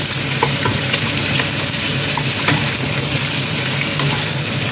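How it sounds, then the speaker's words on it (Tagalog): Chicken wings and ginger frying in a hot pan, a loud dense sizzle with scattered pops and occasional stirring clicks, continuous and close with no voices. "Let's fry the chicken wings briefly."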